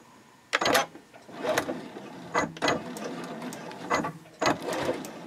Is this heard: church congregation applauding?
no